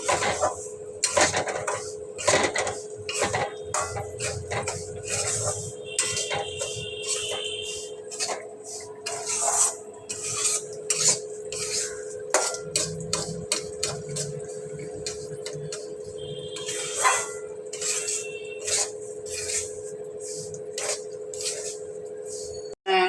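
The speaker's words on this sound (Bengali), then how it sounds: "নেড়ে নিচ্ছি।" Semolina halwa cooked with jaggery is stirred in a pan, producing intermittent clinks and scrapes of a utensil against metal at an irregular rhythm, with a faint steady hum underneath.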